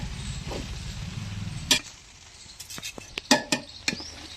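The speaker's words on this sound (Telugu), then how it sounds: "ఇది లేకపోతే స్టీల్ మన ఇంట్లో ఉంటాయి కదా అందులో అయినా వేసుకొని మనం చేసుకోవాలి ఇలా మొత్తం అంతా కలిసే వరకు ఒకసారి బాగా కలపాలి" Snack ingredients for makka gudalu, a Telangana corn snack, being mixed with a spoon in a steel bowl: a low rumble gives way to scattered sharp metallic clinks and scrapes, close and moderately loud, with no talking.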